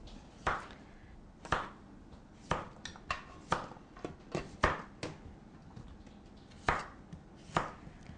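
Kitchen knife chopping food on a board, a dozen or so sharp, close knocks in an uneven rhythm with brief pauses between clusters, quiet room otherwise.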